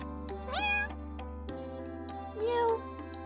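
Two cartoonish cat meows from a Purrfect Date cat-dating video game set at Cat Island Security, each short and rising, clear and close over a steady low hum of background music.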